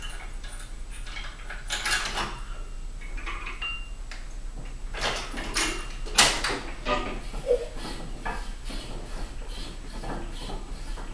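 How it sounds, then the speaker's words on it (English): An Extreme Arm Wrestling training machine moves through its range of motion, producing irregular mechanical clanks, knocks and soft whirring at moderate volume. "That's the Extreme Arm Wrestling machine."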